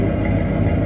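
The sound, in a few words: car engine idling with fuel pump running smoothly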